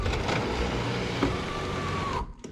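An electric sunroof motor on a Honda CRX with newly replaced lifters runs as the roof opens and closes, a steady close mechanical whir that stops abruptly near the end.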